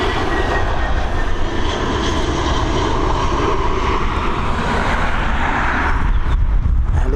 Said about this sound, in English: Got the little sister here, the A320 coming in.